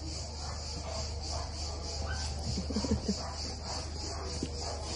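A female dog at an animal refuge in Lebanon whimpers and gives soft yips at close range. The sounds are faint against steady background hiss, with a brief stronger cluster in the middle.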